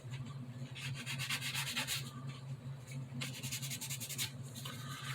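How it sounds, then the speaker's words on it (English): Hand sanding on Mazda RX-7 bodywork during paint prep, a close, steady rasp in rhythmic back-and-forth strokes with brief pauses, over a low background hum. "you want to sand everything"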